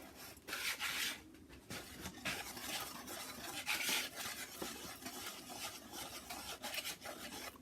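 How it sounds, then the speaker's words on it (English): Wet ingredients being stirred into flour for ciabatta dough, giving a continuous close scraping and rubbing of a utensil against the bowl in uneven strokes, with no talking. "So we're going to mix all of that together. Mix all of this in with the flour."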